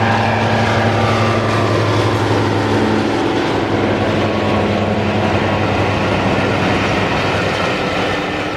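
Western Champion, a diesel locomotive hauling the Western Sunrise railtour at Teignmouth, passes with a loud, sustained engine roar and rolling wheel clatter, steady throughout with no voices.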